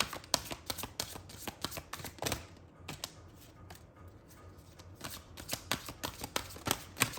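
Tarot cards are shuffled and drawn by hand. A quick, steady run of crisp card flicks and riffles sounds close and moderately loud, with no voice over it.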